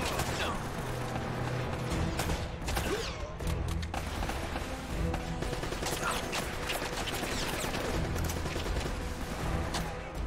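Heavy gunfire in Uncharted: Drake's Fortune, a dense continuous barrage of shots with mechanical clatter running throughout, loud and steady with no clear pauses.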